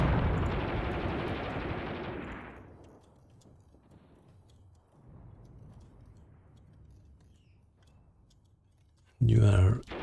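Artillery fire in the war game Graviteam Tactics: a heavy, continuous rumbling barrage for the first couple of seconds, fading into a low distant rumble, then one sharp, loud blast near the end.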